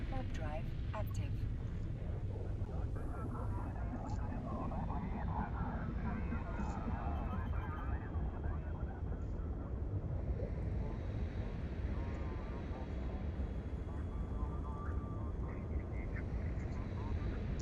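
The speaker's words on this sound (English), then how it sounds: "Warp drive active." A spaceship's warp drive engaging in EVE Online: a steady, dense roaring rush, like wind or a jet, holds at an even level throughout with no breaks.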